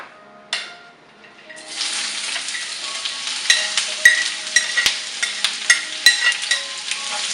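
Ivy gourd stir-frying in olive oil in a pan, a steady close sizzle with repeated sharp scrapes and taps of a spoon stirring through it.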